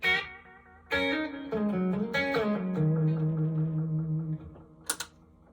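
Electric guitar played through a pedalboard delay with the mix turned down, repeats kept up and a little reverb added, giving sustained, pad-like notes that swell and hold, ending with a brief bright pluck.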